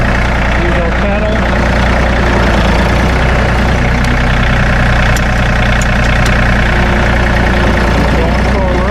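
A 2019 John Deere 3025E compact tractor with loader and backhoe runs its engine as it pulls forward in low range, a steady close, loud mid-to-low drone throughout with someone talking over it.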